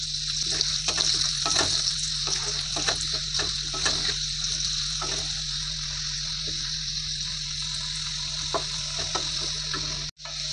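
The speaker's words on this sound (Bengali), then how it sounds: "একটু লবণ দিয়ে দিচ্ছি, একটু হলুদ দিয়ে দিচ্ছি, দিয়ে আলুটাকে ভালো করে ভেজে নেব।" Potatoes frying in oil with salt and turmeric in a home kitchen pan, giving a continuous close sizzle with scattered crackles and a few stirring scrapes, no talking.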